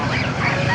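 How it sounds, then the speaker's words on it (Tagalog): A brief burst of honking from geese nearby at an animal market in Baliuag, raspy and overlapping, over a noisy outdoor background. "Mga gansa, tsaka pabo."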